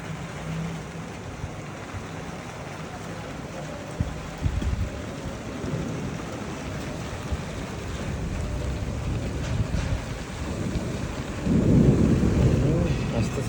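An approaching rainstorm with deep rolling thunder swells over steady rain hiss, with one rumble around the middle and a heavier, closer roll building near the end.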